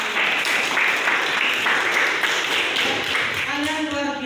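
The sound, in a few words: classroom applause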